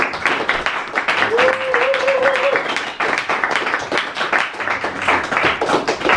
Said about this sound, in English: Let's give Kazi a big round of applause